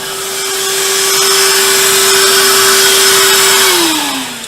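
A loud, steady whine of a shop vacuum runs alongside a drill press motor, its pitch dropping as it begins to wind down at the end.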